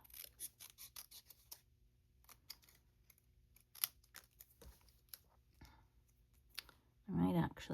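Scissors snipping through paper or card during papercraft, a series of close, crisp cuts in short runs separated by pauses, with a brief voice near the end.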